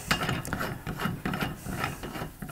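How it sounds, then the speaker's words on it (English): A bolt is wound into a wall-hung toilet frame during installation, making repeated rhythmic ratcheting and grinding turns with short scraping strokes close by, and no speech. "We put the bolt through and we wind it in."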